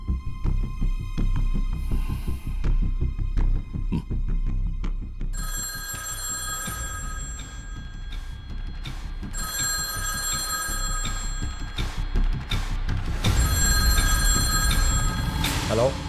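An old-style telephone bell rings loudly and repeatedly in bursts through a tense Telugu action-thriller film scene, over a dense, rumbling background score.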